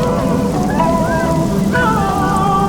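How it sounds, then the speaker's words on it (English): Heavy rain pours steadily at Singapore Zoo, a dense constant hiss with faint tonal calls or squeaks rising above it now and then. "The rain started pouring again"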